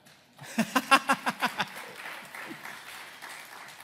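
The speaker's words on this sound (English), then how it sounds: "Yeah, you can clap for that." A small audience breaks into a brief burst of clapping and applause at a motivational talk on disability and the performing arts, sharp claps peaking early then fading quickly into a soft murmur.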